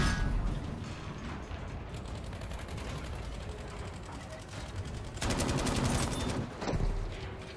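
Tank cannon and gunfire from a Tiger tank in Battlefield V, a dense continuous barrage of shots with a louder burst of blasts near the end, mechanical rattles underneath and no talking.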